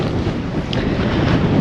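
Steady, loud wind buffeting the microphone at a breezy coastal campsite on the Pembrokeshire coast, a continuous low rushing roar with no voices.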